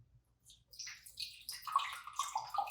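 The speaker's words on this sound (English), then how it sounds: "Now I'm doing a 2-cup system where I hold this one under the spout and I pour this from the inside." Water is poured into the spout of a Jenn-Air Whirlpool refrigerator ice and water dispenser (JS48SEDUDB00) under repair, producing a soft, close trickling and gurgling that builds after a quiet start and keeps splashing steadily.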